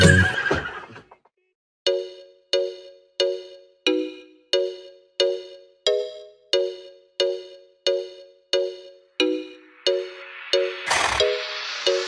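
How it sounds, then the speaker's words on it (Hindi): A horse whinnies in a rapid series of about fifteen evenly spaced, bright neighs, each short and close, following a brief noisy opening and ending in a louder burst. "चल मेरे घोड़े चल टिक टिक"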